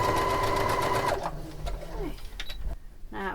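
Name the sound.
sewing machine stitching two layers of cushion cover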